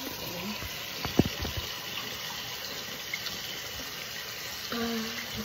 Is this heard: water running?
yes